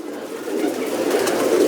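Pigeons at a house loft coo steadily in low, rolling murmurs, close and continuous, with the sound building slightly toward the end and no voices.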